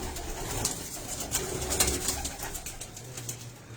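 Tali pigeons coo from their special loft setup, a close chorus of soft, overlapping throaty coos repeating steadily over a low background hum, with no talking.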